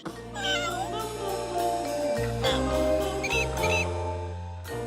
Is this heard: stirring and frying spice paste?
no